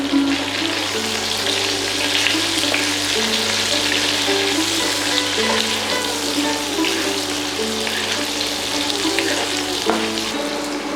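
Carrots and pointed gourd fry in a pan with a loud, steady sizzle and crackle up close, with occasional stirring scrapes and a faint background hum, and no talk.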